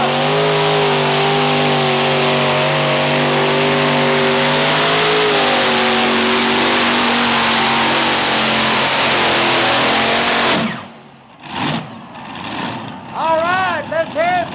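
A modified tractor pulls at a 1996 USHRA event in Chapel Hill, Tennessee, its engine roaring loud and sustained for about ten seconds with a steady rising pitch, then cutting off abruptly and followed by a fainter engine revving.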